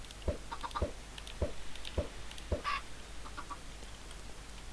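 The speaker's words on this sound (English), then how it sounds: "That's one baby chicken." Short clucks from a baby chicken in a Minecraft modpack, around five of them at a steady pace, alone and clear over a faint game background hum.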